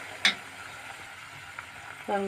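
Mustard seeds, cumin and fenugreek fry in hot oil, a soft steady sizzle with a few sharp clicks and taps of a utensil against the pan.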